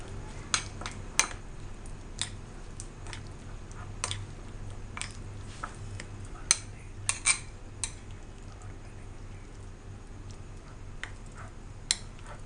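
Raisins and almonds are stirred in a bowl, giving scattered light clicks and taps of the spoon against the bowl at an irregular pace over a quiet low hum, with no talking.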